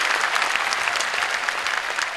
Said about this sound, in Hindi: एक बार जरा हाथ उठाकर तालियों की गूंज में बताइए ना